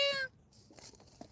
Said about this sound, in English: You hear that cat Oreo?